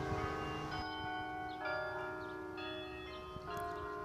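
Church bells ring out across a town in Indiana, Pennsylvania, several bells sounding together in overlapping, sustained tolls with long ringing tones, steady and fairly distant, with no voices.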